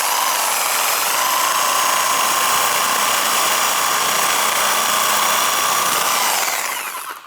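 Power saw cutting through a seized power steering pressure hose on a 1996-2002 Toyota 4Runner, a loud, continuous high-pitched whine held steady for about six seconds before winding down; no voices.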